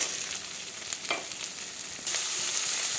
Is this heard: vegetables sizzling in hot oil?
yes